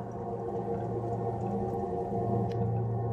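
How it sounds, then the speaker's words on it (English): Radio emissions recorded from the planet Jupiter: an eerie, droning hiss of radio noise with low warbling tones and faint whooshes, steady and unbroken for a few seconds. "This is the sound of Jupiter."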